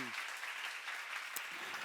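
Audience applause at a church seminar, a steady wash of clapping that fills the short stretch evenly at moderate level, with a brief voice at the start.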